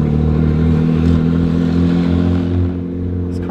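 Car engine fitted with a cheap homemade air intake mod, cruising with a loud, throaty low drone and steady hum that eases slightly toward the end.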